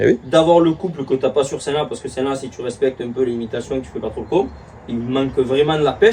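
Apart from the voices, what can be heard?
None of the usual background noises is heard.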